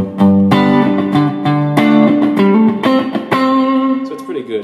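Clean electric guitar through a Fender Superchamp XD tube amp, a series of strummed chords ringing out with sharp attacks, loud and close, each chord sustaining briefly before the next, with no talk.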